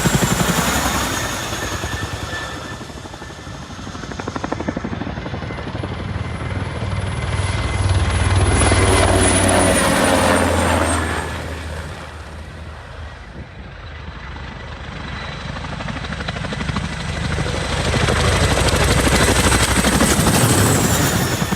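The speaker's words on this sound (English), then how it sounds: "These Royal Netherlands Air Force helicopters are performing a low-level flyby." Royal Netherlands Air Force helicopters making a low-level flyby, with a loud rotor and engine roar that swells as they pass close, fades somewhat, then builds again as another passes.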